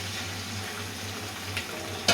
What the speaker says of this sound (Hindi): ये जी हमारा प्याज जब लाइट सा ब्राउन हो जाए तो इसके अंदर हमने चिकन डाल देना है